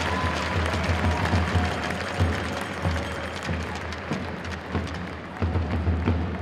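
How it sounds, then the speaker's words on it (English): A hockey arena crowd applauds the Union College women's team after their cup win, a steady wash of clapping under a low rumble of arena music. "Let's give them a big round of applause."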